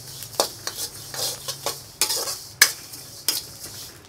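Whole spices for spicy mango pickle dry-roasting in a pan, with light crackling and a series of sharp, irregular spoon scrapes and clinks against the metal, close and moderately loud.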